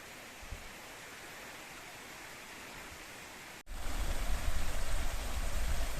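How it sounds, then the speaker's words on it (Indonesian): A cold mountain stream on a trail on Gunung Butik flows with a steady, hissing rush of water that grows noticeably louder and fuller partway through, with no voices. "Ada aliran sungai ya teman-teman."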